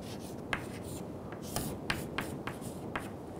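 A pen or marker sketching an airplane diagram by hand, a quiet scratchy stroking with short irregular taps and swipes over a faint room hum.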